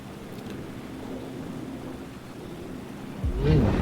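Steady rain and rumbling thunder fill a city scene in the video game Alan Wake 2, a constant wash of rainfall with a deeper rumble swelling near the end.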